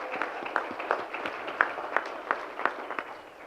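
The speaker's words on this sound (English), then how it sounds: "So big round of applause." A crowd at the Tahoe Economic Summit closing session claps in soft, scattered applause, with distinct individual hand claps sounding fairly distant and faint throughout.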